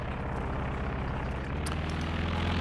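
A recon plane drones overhead in a strategy video game, a steady, loud propeller engine hum with a low throbbing rhythm that holds evenly throughout, no speech.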